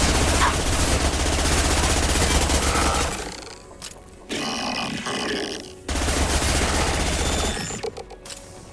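Gunfire in Mass Effect 2, rapid heavy bursts of automatic fire hammering loudly, cutting out briefly into quieter game sounds before another loud burst starts up.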